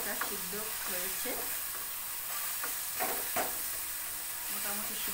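Gima saag being stirred in a pan on the stove, with steady frying sizzle and soft scraping strokes near and fairly loud, plus a faint voice in the background.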